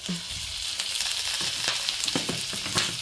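Ground beef frying with okra in a pan, a steady close sizzle with faint stirring scrapes throughout, no talking.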